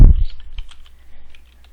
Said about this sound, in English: Okay, so we're typing this Selenium.